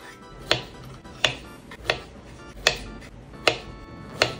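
Knife cutting through fresh strawberries on a board, six crisp chops at an even, unhurried pace, each a short sharp knock, close and fairly loud with no talking.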